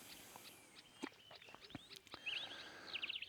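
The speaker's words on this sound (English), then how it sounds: "Only thing you hear is birds." Birds chirp and twitter faintly on a quiet, misty Sunday morning at Bush Willow, with a few quick scattered calls and a brief trill over soft rustling.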